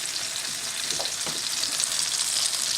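Tomatoes and mushrooms fry on a hob with a close, continuous hiss and crackle of sizzling.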